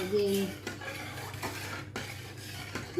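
Spoon stirring instant coffee in a cup or glass while making coffee jelly: steady clinking and scraping against the sides, close and clear, continuous for the whole stretch with no talking.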